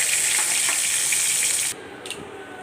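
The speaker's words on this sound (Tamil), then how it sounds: "தாளிச்சிடலாங்க. கடுகு, காஞ்ச மிளகாய், கருவேப்பிலை" Mustard seeds, dried chillies and curry leaves sizzle in hot oil for tempering, a loud, steady close-up crackle that cuts off sharply after under two seconds, leaving a faint residual hiss with no talking.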